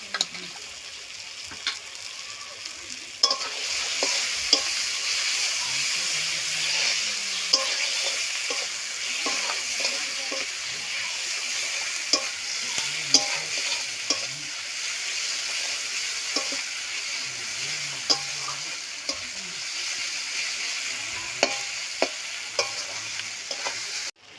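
Ginger and garlic paste fries in oil for a jackfruit and shrimp curry, a loud continuous sizzle broken by repeated scraping clicks as a spoon stirs the pan, with no talking.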